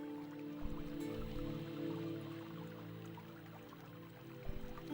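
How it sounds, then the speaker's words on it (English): Rusty faucet running in the video game Broken Sword 1 Reforged, a steady watery stream with faint dripping, moderately quiet and continuous without talk. "Now the faucet is running. It was a rusty faucet."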